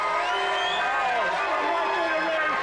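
A live show audience shouts, whoops and cheers in a loud, continuous crowd roar, with voices rising and falling in pitch throughout.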